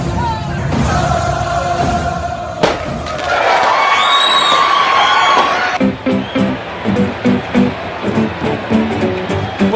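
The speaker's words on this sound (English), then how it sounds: "Raucous crowd here in Miami." Raucous stadium crowd at a World Baseball Classic semifinal between the USA and the Dominican Republic in Miami, a loud sustained roar with yells and whistles swelling midway, then breaking into rhythmic chanting and clapping.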